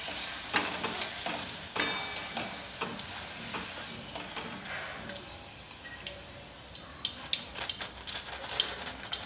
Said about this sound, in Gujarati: આ વેફરને આપણે મીડિયમ ફ્લેમ પર તળીને તૈયાર કરવાનું છે